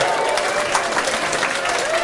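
An audience claps and cheers in a continuous wash of applause, loud and close, with voices mixed into the crowd noise.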